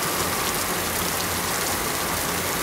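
Steady rain falling in a tropical setting, a dense, even hiss of drops on surfaces that holds constant throughout with no voices or other sounds.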